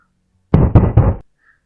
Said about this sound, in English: The entire door suddenly shuddered against the pounding force of whatever stood on the other side.